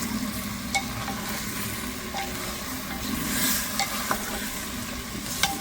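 Garlic sautéing in a pan for a Filipino soup, a constant close sizzle with a few sharp clinks of a utensil stirring against the pan, no voices.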